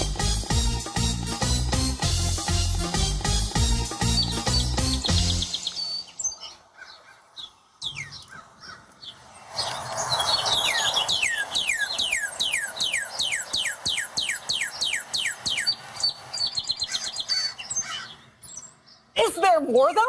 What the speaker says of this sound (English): Is there more than one cardinal in the studio?